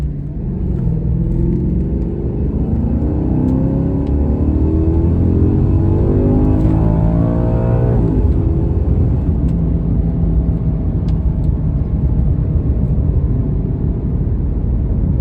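A Maserati Quattroporte with a recurring engine fault is driven gently up a road, a steady, loud engine drone whose tone shifts and climbs gradually, heard from inside the car with no talking.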